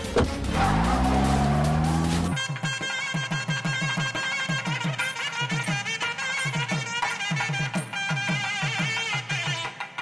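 A car screeches off at speed, tires squealing loudly for about two seconds before a rapid music score takes over; a street chase scene in a Tamil TV serial.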